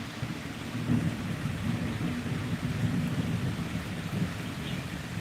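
Steady rain pours down under a low, continuous rumble of thunder, heard from fairly close with no voices.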